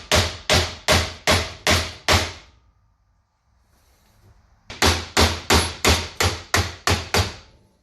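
A hammer strikes a screwdriver driven into a Jeep YJ track bar bushing in a steady run of six sharp metallic blows, a pause, then seven more at the same even pace, close and loud.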